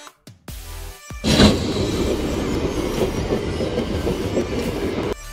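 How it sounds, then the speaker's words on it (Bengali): A Habra local passenger train pulls into a station: a loud, close rush of carriages with clattering wheels and a faint squeal, steady for several seconds before cutting off. A brief tone comes just before it. "আমাদের ট্রেন কিন্তু চলে এসেছে"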